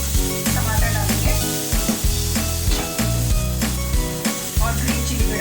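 Onions frying and sizzling in a pan while stuffed karela is being prepared, a steady hiss with busy crackle and stirring that carries on without a break.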